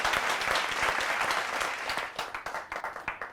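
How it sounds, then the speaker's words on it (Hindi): An audience at a Hindi poetry gathering (kavi sammelan) applauds to welcome a poet: a dense, loud burst of clapping that thins out near the end into a few separate claps. "जोरदार ताली स्वागत करिए आप सुप्रिया श्रीवास्तव जी का।"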